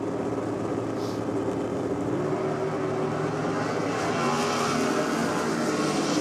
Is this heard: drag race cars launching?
yes